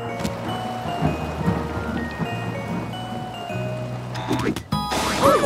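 Animated thunderstorm scene with rain and rumbling thunder in a children's cartoon about toy cars, mixed under cartoon music and chimes throughout, with a brighter burst near the end.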